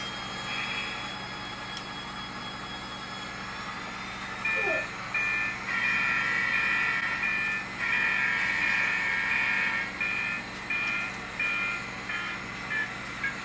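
A vehicle backing up gives off a series of evenly pulsed, fairly clear reversing beeps that start partway in and repeat steadily over a low, constant mechanical rumble.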